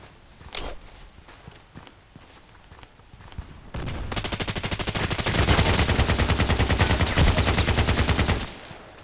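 An RPK machine gun in the game Contract Wars fires a long sustained burst of rapid, evenly spaced shots, loud and close, following a few scattered clicks and footsteps.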